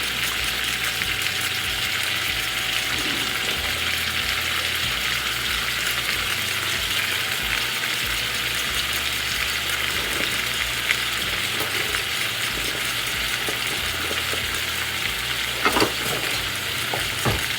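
Pork roast pieces frying together with scrambling eggs on a cooktop give a steady, close crackling sizzle throughout, with occasional scraping stirs and a brief louder pop near the end.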